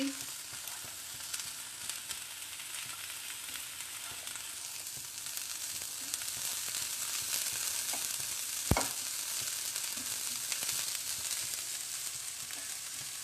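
Food sautéing in a pan gives a steady, even sizzle that holds throughout at close range, with faint stirring scrapes and one sharp knock partway through.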